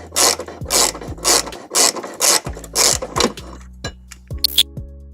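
Close, loud ratcheting from a ratchet with a 17mm socket turning a bolt on a 2003 Subaru Forester, in rapid bursts of clicking strokes with brief pauses between them.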